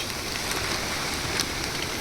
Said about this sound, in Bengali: কন্টিনিউয়াস বৃষ্টি হয়ে যাচ্ছে